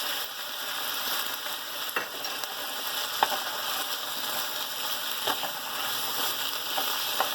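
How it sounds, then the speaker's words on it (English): Onion and minced garlic sizzling steadily in a pan, a continuous close crackling hiss with a few sharper pops and light stirring clicks, no speech. "We're going to just let this onion cook a little bit."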